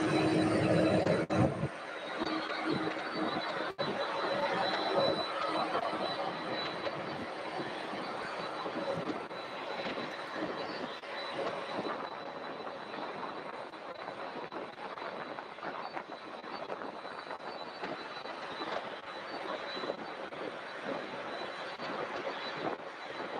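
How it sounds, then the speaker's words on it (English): A Delta Boeing 717 airliner coming in to land at Louisville's SDF airport, a steady distant jet roar with a broad rushing hum that holds fairly level throughout and carries no voices. "that Delta 717 that Ellis Smith was talking about earlier is getting ready to"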